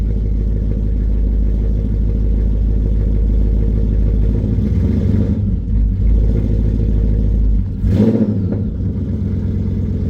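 A cammed Ford F150 engine running close by with a deep, lumpy rumble, a light blip of throttle near the end and the idle hanging from a vacuum leak.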